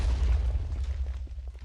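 A video game explosion blows a hole in the ground with a deep rumbling boom that rolls on and fades over a second or so, alone without talk.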